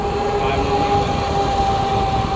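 A Hydra X8S RC boat with a Castle 1650kv motor on 4S runs at full throttle, giving a steady, high-pitched electric whine with a constant drone that holds level throughout, with no speech over it.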